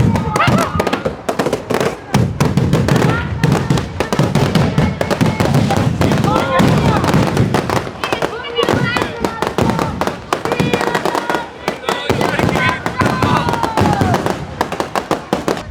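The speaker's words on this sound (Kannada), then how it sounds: "ಮುಖ್ಯಮಂತ್ರಿ ಆಗಮನಕ್ಕೆ ಪಟಾಕಿಗಳ ಸುರಿಮಳೆ" Dense volleys of firecrackers crackle and pop without pause at a Chamundeshwari temple fair in Ramanagara, welcoming the chief minister's arrival. The loud, close bursts run throughout, with voices and crowd noise mixed in.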